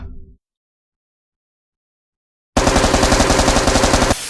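Rapid machine-gun fire in a Thai-dubbed anime scene erupts after a short silence, a loud, fast, evenly spaced burst of shots lasting under two seconds.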